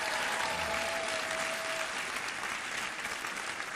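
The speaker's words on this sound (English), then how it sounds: "A round of applause for the lacrosse team." A round of applause for a high school lacrosse team at a sports awards show, steady and even clapping from a crowd, moderately distant and continuous without pauses.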